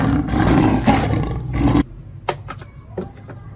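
A loud, rumbling roar lasting nearly two seconds from a toy Barbary lion, followed by a few sharp clicks and taps.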